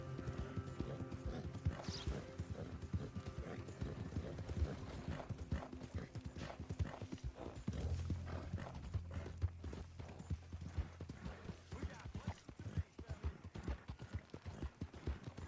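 A horse's hooves clip-clopping in Red Dead Redemption 2, a steady close walking rhythm of hoof beats with creaking tack and some mechanical game sounds underneath.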